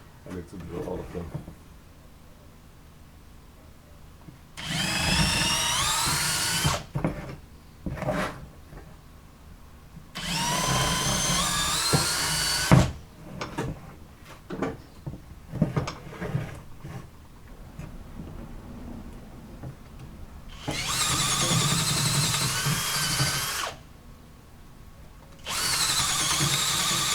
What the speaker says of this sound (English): I need to drill all of them.